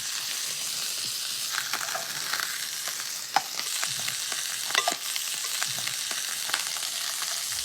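Duck breast sears in a hot saute pan, a steady close sizzle broken by a few sharp clicks and scrapes of the meat being moved against the metal.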